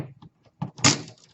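An airsoft AEG gearbox shell is pried open with a screwdriver, a few soft plastic clicks followed by a brief scraping release, close and quiet.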